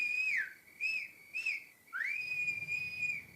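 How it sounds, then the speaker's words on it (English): A person whistles a short, plaintive tune from a kitchen door: a falling note, two brief chirps, then a long sliding note held steady, clear and fairly close. "whistling pitifully from the kitchen door"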